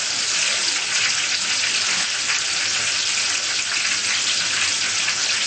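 Spring rolls deep frying in hot oil give a steady, dense hiss and crackle that stays even and close throughout, with no talking.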